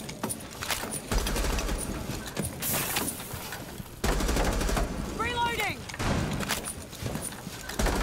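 Ash's rifle in Rainbow Six Siege fires in rapid full-auto bursts, loud and close, separated by short pauses, with players talking over the shooting.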